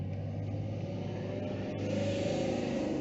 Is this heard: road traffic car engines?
yes